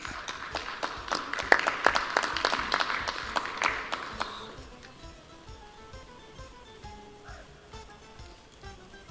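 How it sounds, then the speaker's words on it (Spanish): Audience applause at a congress session on brass bands in the Diablada Puneña dance tradition, scattered claps loud and dense for about four seconds, then fading into quieter room murmur. "Lo recibimos con un fuerte voto de aplauso."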